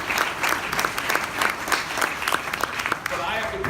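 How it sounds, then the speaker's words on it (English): An audience applauds the team at a grand opening, a steady, dense wash of many hands clapping close by for several seconds, with a voice audible over it. "How about a round of applause for the job?"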